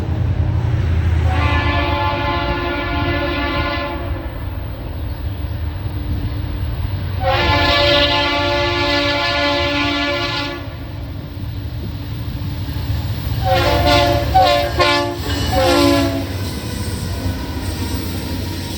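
An SD60E locomotive horn sounds its two-tone chord in three loud blasts, the first two held about three seconds each and the last broken into short pulses, over a steady rumbling engine.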